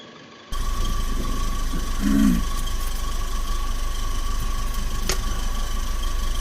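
A 1968 Dodge Charger R/T at its first start after long storage settles into a steady, moderately loud running drone from about half a second in, with a brief rise near the two-second mark.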